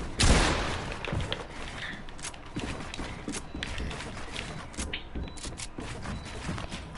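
Rapid bursts of gunfire in the Fortnite video game, starting with a loud close shot and followed by scattered, repeated shots of varying distance over a steady background of game noise.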